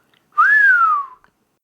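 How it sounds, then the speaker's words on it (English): A person lets out a single close, clear whistle of surprise, rising briefly and then sliding slowly downward over about a second before stopping. "Detective H2O whistled."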